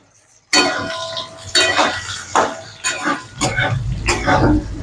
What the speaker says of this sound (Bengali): বন্ধুরা আলুটা ভাজা হয়ে গেছে এর মধ্যে আমি বেগুনটা দিয়ে দিচ্ছি